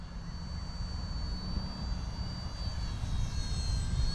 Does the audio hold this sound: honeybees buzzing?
no